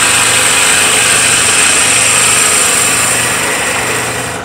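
Wood lathe spinning a spindle blank while a tool cuts a screwdriver handle, working downhill from the larger to the smaller diameter; a steady, loud, broadband hiss and whine runs continuously without pause, easing slightly at the end.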